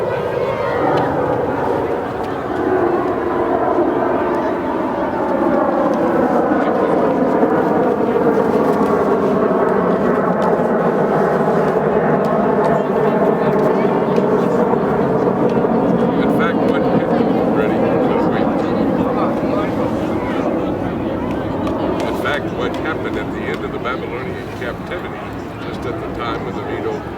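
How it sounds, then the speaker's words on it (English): An airplane passes overhead with a long, loud, steady roar that swells and sweeps in pitch as it goes by, then slowly fades, with people talking briefly underneath. "Let's wait till this flight goes by."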